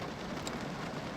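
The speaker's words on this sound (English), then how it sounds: "So the rain sounds really therapeutic." Rain falling outdoors, a soft, even patter with a faint, continuous hiss and nothing else standing out.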